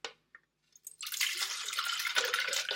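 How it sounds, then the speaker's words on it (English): Icy frozen butterbeer is poured into a blender, a few faint drips followed by a steady, fairly close slushy rush of liquid that keeps going to the end. "You can pour that right into the blender itself."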